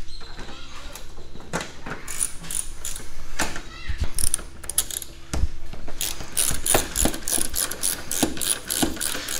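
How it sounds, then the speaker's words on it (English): Ratchet wrench tightening a headlight bolt on a 2009 Toyota Venza during a headlamp replacement, with repeated close clicking bursts in irregular runs and occasional mechanical clunks. "we're going to tighten this down so it's pretty tight"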